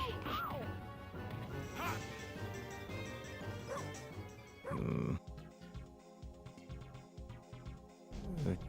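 A dog barks in a video game, with several sharp yips and barks over game music, followed by a crash and a run of percussive hits.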